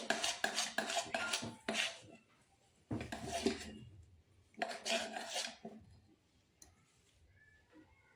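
Bowl of biscuit cake batter thinned with milk, whisked briskly in rapid scraping bursts that stop and start with short pauses, close and fairly loud with no voices.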